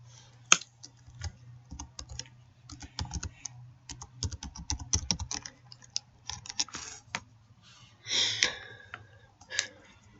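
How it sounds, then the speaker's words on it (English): Irregular clicking of computer keyboard typing, close and fairly quiet, in bursts with short pauses and a faint background hum. "Those keyboard sounds you hear are the sounds of me saving the pudding."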